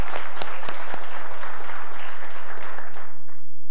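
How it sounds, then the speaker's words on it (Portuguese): A congregation at a church cell conference gives a loud burst of applause, with a few sharp individual claps standing out before the clapping thins and fades near the end. "Você pode aplaudir o Senhor?"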